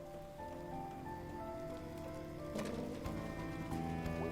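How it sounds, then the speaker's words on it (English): Steady rain falls outside in the video game Night in the Woods, a continuous patter with faint bird coos and soft game music underneath. "And then to just like go outside in the rain."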